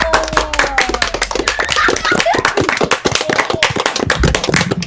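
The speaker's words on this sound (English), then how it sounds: "Everyone applause right now." Sharp, close hand clapping from a small group, with dense irregular claps at a fairly loud level and no talking.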